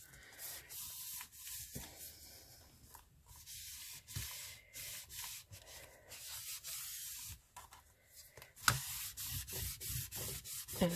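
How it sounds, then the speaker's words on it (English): Dry wipe rubbed by hand over paper to burnish an envelope folio, giving soft, close scratchy strokes in an irregular rhythm with brief pauses, fairly quiet throughout. "I'm just giving it a burnish by hand with my wet wipe, dry wipe"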